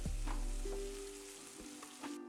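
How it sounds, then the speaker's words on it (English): Vegetables fry in olive oil in a large non-stick skillet, giving a steady close sizzle with a few soft stirring knocks, no voices over it. "add some olive oil, and allow the vegetables to cook in there for 8 to 10 minutes"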